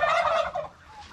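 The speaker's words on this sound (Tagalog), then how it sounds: "Maingay na gansa." Loud, raucous honking from a goose at close range on a small poultry farm, a harsh cluster of calls that fades off over about a second.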